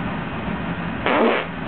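A fart being lit on fire bursts out as one short, loud, rasping puff lasting about a third of a second, after a quiet background hum.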